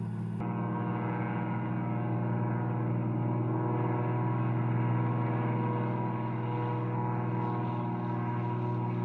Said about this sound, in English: The aircraft is fueled manually and the engine is cranked up,